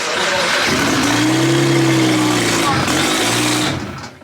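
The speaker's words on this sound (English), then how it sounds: "They starting engines." A BMW N54 car engine revs loudly and steadily, rising and falling in pitch with a brief dip before revving up again, then fading at the end.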